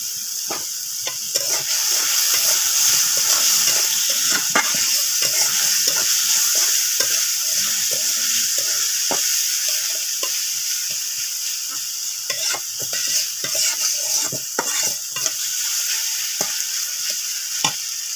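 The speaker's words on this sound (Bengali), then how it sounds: "আমি আলুটা এই যে দেখেন ভাজা হয়ে গেছে, ব্রাউন কালার হয়ে গেছে।" Diced potatoes sizzle steadily in oil in a pan as they turn golden brown, with repeated scraping and clinking strokes of a spatula stirring them throughout, close and fairly loud, no voices.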